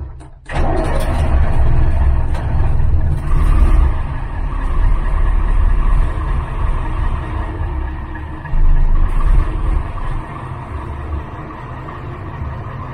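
A truck engine starts and then idles steadily, heard from inside the cab, with a deep, continuous low rumble that stays loud and even throughout and is interrupted only by a brief surge partway through.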